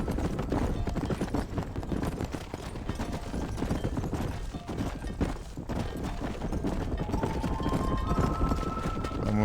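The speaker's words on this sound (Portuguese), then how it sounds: "O cavalo fugindo." Rapid hoofbeats of a galloping horse in Red Dead Redemption pound steadily throughout, layered with game music and ambient noise, loud and continuous.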